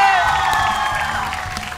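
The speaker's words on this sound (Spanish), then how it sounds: "¡Un aplauso para la prueba!" Audience applause with cheering and whoops rising over a held musical tone, loud and crowded, tapering slightly over a couple of seconds.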